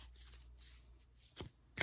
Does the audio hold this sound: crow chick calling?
no